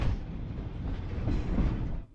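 Leadville Railroad train riding along a mountainside, a steady low rumble and rattle of rolling cars with no voices, fading out at the end.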